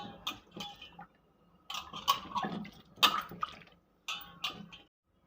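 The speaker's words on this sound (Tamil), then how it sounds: "பப்பாளி காயை தண்ணியில் நல்லா வாஷ் பண்ணி எடுத்துக்கலாம்." A raw papaya is washed in water in a kitchen. Close sloshing and splashing come in several short bursts separated by brief pauses, with drips and squishy handling and no talk.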